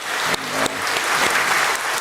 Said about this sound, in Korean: 우리 따뜻한 격려의 박수 한번 해주시면 감사하겠습니다